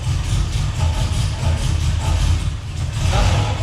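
A damaged car engine, with metal flakes showing in its oil, idles with a steady, loud low rumble throughout. Its note is broad, continuous and mechanical, with no clear start-up crank.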